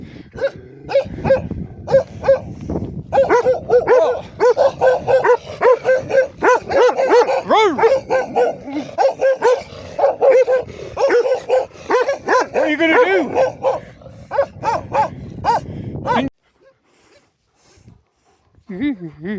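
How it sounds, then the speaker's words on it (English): A dog gives repeated sharp barks, yips and whimpers close to the microphone, with a person talking over it, before the sound drops away to near silence at the end. "It's a doggy."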